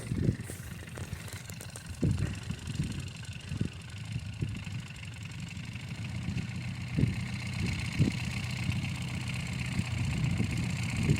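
A tractor pulling a homemade plough idles at a low, steady rumble, fairly quiet, with occasional thumps and knocks.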